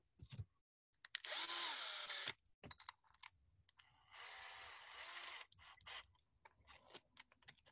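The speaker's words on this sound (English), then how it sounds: "So I'm going to go ahead and chuck this bit into the drill." A drill chuck is tightened onto a pocket-hole bit during woodworking joinery, giving two short, close whirring bursts separated by quieter clicks and handling noises.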